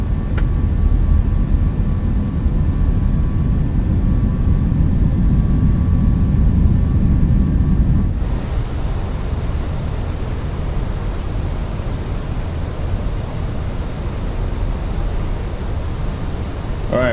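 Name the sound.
Airbus A319 airliner cabin noise during a sharp turn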